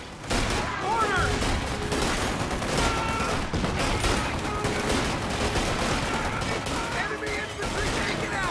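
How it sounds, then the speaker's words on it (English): Sustained gunfire in Company of Heroes 2 Ardennes Assault, a dense continuous rattle of rifle and machine-gun shots mixed with battlefield noise, loud throughout, with soldiers' voices calling out beneath it. "Fighting positions is sustaining fire."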